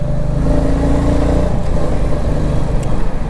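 A motor vehicle on a road trip through hills near the Godavari bridge, its engine droning steadily and loudly from start to finish with a constant low rumble and no talk.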